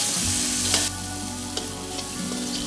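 Chopped tomatoes fry with turmeric and chilli powder in a pan for Kerala dal curry, a steady loud sizzle with a few stirring scrapes, close and continuous with no voices.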